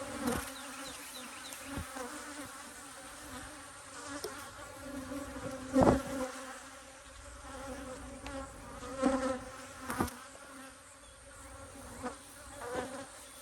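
Honeybees buzzing around an open beehive during apiary work, a steady close hum with individual bees passing near in louder swells, some light handling clicks, no talking.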